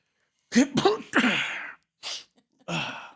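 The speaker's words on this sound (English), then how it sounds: "I'm sorry I had to sneeze there for a second." A sharp sneeze with a gasping intake, followed by a couple of short breathy exhalations, close to the listener and otherwise quiet.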